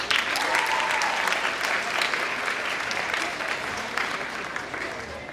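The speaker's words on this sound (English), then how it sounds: "Give yourselves a round of applause." A graduating class of 2019 at Central High's Class Day applauds themselves, with sustained, even crowd clapping filling the room for several seconds.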